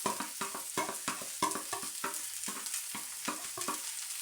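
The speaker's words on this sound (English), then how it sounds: "So we just fry them for 2 minutes, and then we add in our cilantro." Green beans frying in a pan with cilantro give off a soft continuous sizzle, cut by regular scraping stir strokes of a spatula, close-up with no voices.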